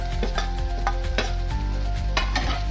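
Bitter gourd masala with salt, coriander powder, chilli powder, jaggery and grated coconut frying in a pan, with steady loud sizzling and a few sharp scrapes and clinks as it is stirred, no voices.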